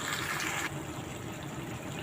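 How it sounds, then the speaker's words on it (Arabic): Vinegar, about a quarter cup, is poured into tomatoes simmering with fried eggplant and garlic: a bright splashing hiss for under a second, then a steady low bubbling simmer carries on alone. "وبعد كده هنضيف لها ربع فنجان خل،"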